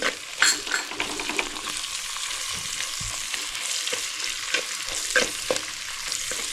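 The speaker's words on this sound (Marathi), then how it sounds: "आता मी ह्याच्यामध्ये टॅमॅटो टाकते आता टॅमॅटो बरोबर इथे मी जो हा कोलिम घेतलेला आहे चिचवण्याचा कोलिम तो मी टाकते आणि सर्व एक जीव करून घेते" Onion, tomato and dried shrimp frying in a clay pot, stirred steadily under a constant loud sizzle, with scraping and clinks from the spoon against the pot.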